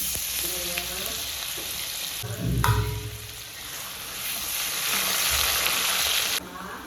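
Cumin seeds sizzle and fry steadily in plenty of hot oil in a kadhai, a continuous crackling hiss that swells briefly when the seeds hit the pan, with no talking.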